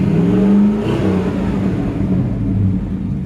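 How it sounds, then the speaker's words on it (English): A 1955 Ford F100 hotrod revs through its exhaust, a loud, close engine note that swells sharply early on and then settles into a steady rumble. "But man, killer exhaust."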